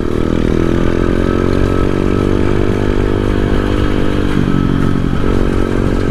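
A dirt bike fitted with a cheap, low-quality bent exhaust pipe runs loudly and close up in a village, its engine holding a steady, rough idle with some rattling clatter.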